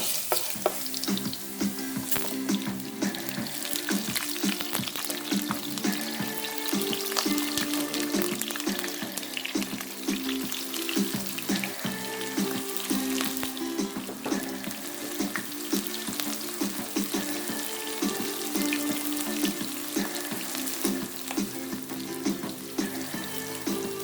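Onions hitting a hot pan with fresh garlic for a chicken curry and cauliflower stir fry, sizzling and frying loudly and steadily throughout with bursts of stirring, no voices.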